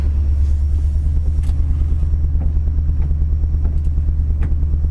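A 1966 Ford Thunderbird engine idles steadily after running for about ten minutes, a loud, constant low rumble with a faint high whine above it, close by and without talk.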